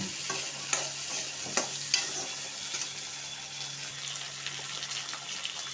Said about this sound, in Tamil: நல்லா சுண்டைக்காயை வதக்கலாம்